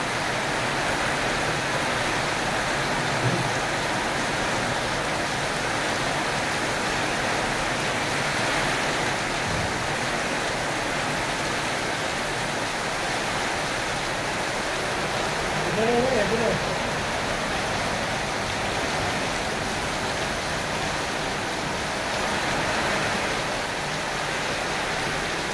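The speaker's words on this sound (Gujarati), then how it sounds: "આપણા કબીજલા ગામે આજે ત્રીજી વખતનો વરસાદ, ફૂલ જોશમાં વરસાદ" Heavy rain pours down steadily over Kabijla village, a continuous dense hiss that holds through the whole stretch with no breaks and a few faint background sounds beneath it.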